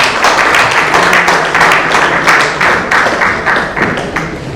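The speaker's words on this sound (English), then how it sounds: "Let's have a huge round of applause for the Honourable Minister Sir on the podium for the keynote address." Audience applause for a minister at the ISC 2023 inaugural session in Jaipur: dense, steady clapping from a large crowd that fills the whole stretch, loud and sustained without any speech.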